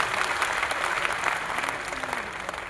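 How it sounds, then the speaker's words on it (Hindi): Loud, sustained applause from a seminar audience, a thick wash of many hands clapping at once, steady and close throughout. "जोरदार तालियां बजाइए आप इस नॉलेज के लिए।"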